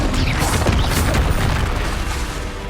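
A Depulso spell cast in Hogwarts Legacy, a loud, close booming burst with crashing impact noise that rings out and tapers over a couple of seconds.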